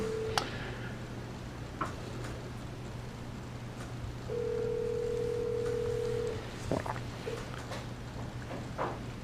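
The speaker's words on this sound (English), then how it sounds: "Jeremy, I'm gonna call you on this cell phone." Cell phone call tone in a school board meeting room, a steady electronic tone sounding for about two seconds amid a constant low hum and scattered ticks and knocks, without speech.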